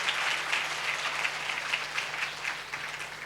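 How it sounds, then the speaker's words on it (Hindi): A church congregation at a Sunday service claps in praise, a steady patter of many hands with rhythmic accents, fairly distant and moderate in level, with no voices over it. "अब ताली बजाकर प्रभु को स्तुति करेंगे"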